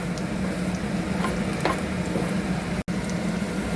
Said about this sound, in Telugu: సో ఆనియన్స్, మిరియాలు అండ్ లవంగా కొంచెం ఫ్రై అవ్వాలండి.